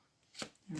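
Paper for scrapbooking is cut in two quick, crisp snips close by, the second slightly heavier, in a quiet room.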